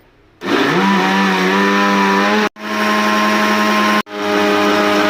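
An electric mixer grinder churns cream with water to make butter, running loud and steady in three bursts separated by two brief stops.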